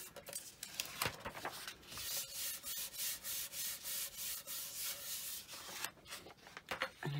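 A satin rippled metal pendant is burnished, giving steady rhythmic rubbing strokes, close and fairly quiet, with a brief pause near the end before the rubbing resumes.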